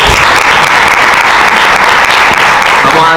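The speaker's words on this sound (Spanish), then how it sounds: "Un aplauso." A live audience in Jerez breaks into loud, sustained applause, a dense wash of many hands clapping steadily and close for the whole stretch, with no pauses.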